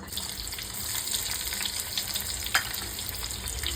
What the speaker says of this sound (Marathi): आता कढई तापलेली आहे त्याच्यात मी दोन पळी तेल टाकून घेते आतमध्ये आधी कांदा